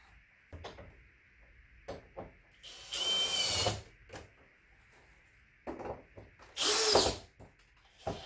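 A power drill bores holes into a wall for mounting a TV, two loud whirring bursts of a few seconds each between scattered clicks, knocks and handling noises, close by with no talk.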